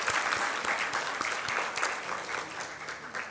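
A church congregation of women applauds together, a dense, steady wash of many clapping hands that holds at full strength throughout without a break.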